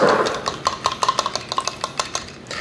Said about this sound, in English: I'll give this a little whisk